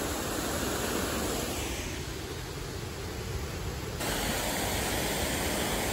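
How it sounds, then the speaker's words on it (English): A waterfall in snowy terrain gives a steady broadband rush of falling water, moderately loud and continuous, dipping slightly in the middle before returning to full strength. "Waterfall back down there."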